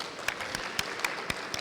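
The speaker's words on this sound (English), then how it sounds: "Can we have a round of applause" Applause from an audience at an academic forum panel of a hospitality expo in India: steady, fairly faint clapping with a few sharper individual claps standing out, and no talking.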